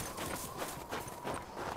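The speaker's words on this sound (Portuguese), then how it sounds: "ela conseguiu levar o Joel lá de cavalo" Hooves of a horse gallop in The Last of Us, a quick, rhythmic clip-clop of several beats that sounds fairly close but soft under a dense outdoor background hiss.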